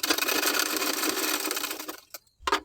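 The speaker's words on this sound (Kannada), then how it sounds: "ಈಗ ಹುಕ್ ಪಟ್ಟಿ ಹಚ್ಚಿ ಸ್ಟಿಚ್ ಮಾಡ್ಕೊಂಡಾಯಿತು." A sewing machine stitching a hook strip onto fabric while tailoring runs in a steady, close, rapid whir for about two seconds, then stops, followed by a couple of short knocks.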